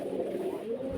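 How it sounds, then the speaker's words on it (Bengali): Hungry pigeons coo in a steady, low, continuous murmur that stays close and moderately loud for the whole second, with no talk over it. "যে কবুতরগুলো ক্ষুধা জ্বালায় কি করতেছে"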